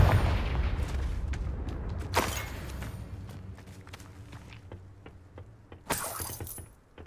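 In Hogwarts Legacy, the blasting curse Confringo goes off in a sharp burst of shattering, debris-like crashes, then fades into quieter footsteps and clatter before another bright explosive crack near the end.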